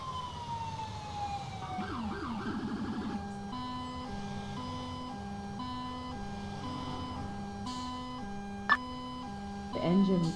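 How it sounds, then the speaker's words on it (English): NYPD police siren in the video game GTA IV, a loud wailing then alternating yelp tone cycling steadily and close, with a voice talking over it. "Yeah, the NYPD siren in."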